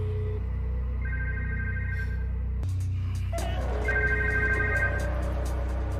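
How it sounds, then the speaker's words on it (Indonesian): A council member's mobile phone rings from inside a pocket, a loud, steady electronic ringtone melody with repeating tones over a low hum. "ponsel milik salah satu anggota dewan pun berbunyi saat Jilong menghubungi nomor tersebut"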